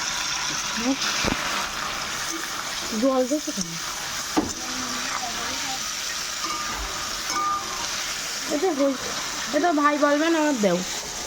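Chili and ginger frying in hot oil give a steady broadband sizzle, heard close and fairly loud, with occasional stirring clatter and several voices talking over it at intervals.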